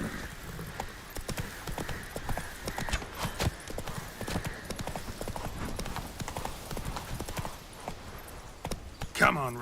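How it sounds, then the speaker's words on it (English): Rapid, rhythmic hoofbeats of a galloping horse in The Witcher 3: Wild Hunt drum steadily at close range, with game voices speaking over them and a brief sharp effect near the end. "Run, Roach"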